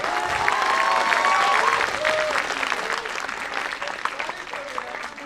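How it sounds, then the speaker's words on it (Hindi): An audience claps before a Hindi poetry recital, giving dense, steady applause that swells near the start and tapers slightly, with a voice faintly audible above the clapping. "आप तालियां बजा दो"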